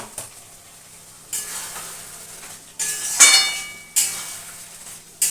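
Kajli fish with pre-fried pointed gourd being sautéed in a pan, with a few bursts of sizzle and stirring scrapes at irregular intervals, moderately close, no voices.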